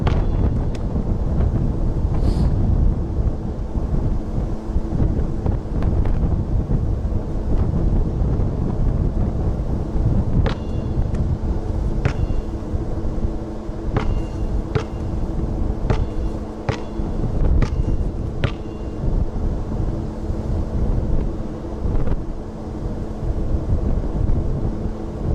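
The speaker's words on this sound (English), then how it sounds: "Pretty windy now." Strong wind buffets the microphone outdoors for the whole stretch, a loud steady roar with gusty swells and a few faint clicks, no voices.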